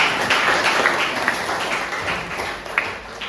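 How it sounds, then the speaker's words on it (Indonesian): A class of students applauds together at the end of a lesson on preparing and washing a body for burial, a steady spread of clapping lasting a few seconds with no voices over it. "Tepuk tangan buat kita."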